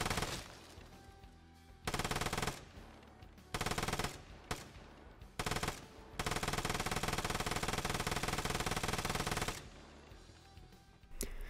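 Machine guns in the video game Vigor fire in repeated loud sustained bursts, several short volleys followed by one long continuous stream of automatic fire, separated by brief quieter gaps.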